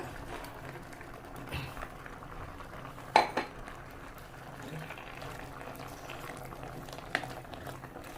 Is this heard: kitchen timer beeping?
no